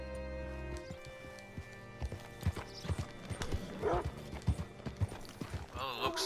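Horse hooves in the video game Red Dead Redemption 2 clip-clop in an uneven rhythm, quite close, with a horse snorting and neighing briefly near the end.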